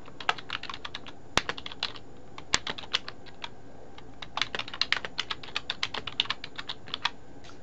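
Fast typing on a computer keyboard, close and distinct, with dense bursts of clicky keystrokes, a couple of sharper key hits, and brief pauses between words.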